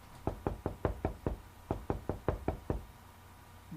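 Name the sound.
knock on a door in video game Mudlarks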